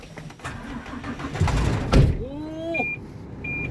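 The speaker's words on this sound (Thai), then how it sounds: "โอ้เสียงเครื่องมันนิ่มมาก" A car engine runs steadily with a low rumble, swelling briefly louder, followed by a short electronic chime or beeps near the end.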